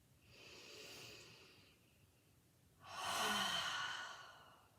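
Two slow, deep breaths during a yoga squat, a softer airy exhale followed by a louder, fuller one, close and quiet with no talking.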